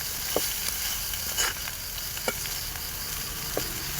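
Dill leaves stir-fried in a pan give a constant hissing sizzle with a few soft scraping strokes as they are turned, fairly close and without talk.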